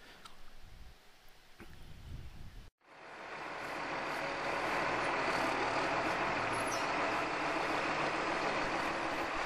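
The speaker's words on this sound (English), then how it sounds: "The grader is moving around the best he can" Road grader working a gravel laneway, a diesel engine rising after a brief cut into a loud, sustained rumble and scraping roar that holds steady, fairly close.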